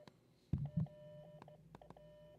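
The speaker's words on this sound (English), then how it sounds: "He's giving you the boot in Morse code." Short electronic tone beeps of a Morse code signal sent over a phone line into a radio call-in show, a few spaced pips with two louder thumps early on, moderately quiet.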